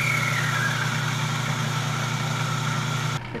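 A salvaged washing machine motor with a centrifugal clutch runs with a steady, loud, close electric hum and whine, then cuts off abruptly near the end.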